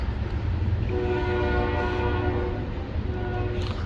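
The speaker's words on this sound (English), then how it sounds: "Yes, there goes the train." A train passes in Sun City, Arizona, a loud steady rumble of rolling cars with a long sustained horn blast sounding from a moderate distance, no voices.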